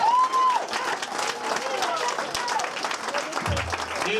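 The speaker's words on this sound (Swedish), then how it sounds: "Ge dem applåder!" A live crowd applauds winners at a Swedish stand-up comedy contest, steady dense clapping from a large audience throughout, with some talk and a brief tonal sound at the start.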